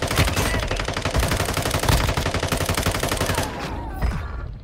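Loud, close automatic gunfire in the mobile video game Warzone Mobile rattles in rapid continuous bursts for several seconds before tapering off.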